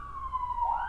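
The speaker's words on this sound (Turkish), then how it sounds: "Ambulans geçiyor." Ambulance or police siren passing nearby, a steady wailing tone that sweeps and rises toward the end, heard alone over low background rumble.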